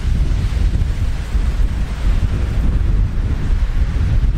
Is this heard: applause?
no